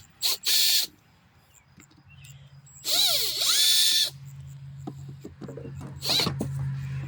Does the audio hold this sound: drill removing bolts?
yes